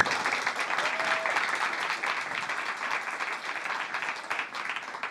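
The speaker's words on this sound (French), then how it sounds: "Je propose qu'on l'applaudisse bien fort parce qu'elle nous entend." Audience applause for a guest at a French live broadcast event, steady dense clapping throughout, moderately quiet and continuous without talk.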